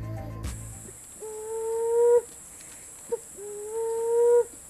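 Two long, smooth whistled tones come from a bamboo bird call blown to imitate a green pigeon, each rising slightly and holding, with a short pause between, heard clearly and alone over a steady high hiss.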